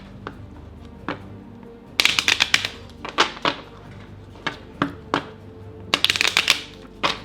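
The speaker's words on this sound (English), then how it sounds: "you have to shuffle your deck" A deck of cards for the Wizards and Relics board game is shuffled in several quick riffling bursts, close and crisp, with light taps between them.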